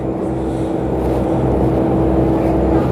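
The Hashimpur Express, a small passenger launch, cruises a river route near Narayanganj and Chandpur, its engine droning in a constant, loud, low hum with a steady tonal whine on top.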